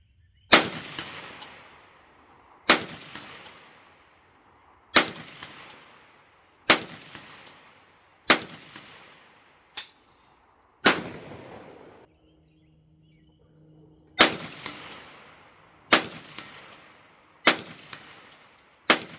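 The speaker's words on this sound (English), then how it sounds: "So here I am, kind of rapid fire at 100 yards" Rifle shots fired at a moderately rapid pace at a 100-yard outdoor range, about ten sharp, loud reports spaced roughly two seconds apart, with one longer pause midway filled by a faint low hum.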